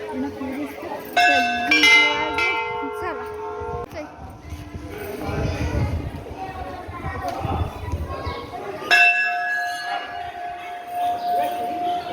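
A temple bell is struck a few times, ringing out with long metallic decay, while people talk and move around in the background between strikes.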